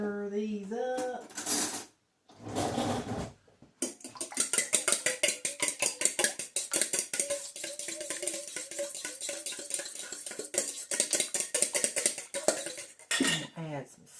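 Eggs being stirred in a pan for a bacon, egg and cheese sandwich: a rapid run of metal utensil clinks and scrapes against the pan, close up, after a brief stretch of talk and a couple of clatters.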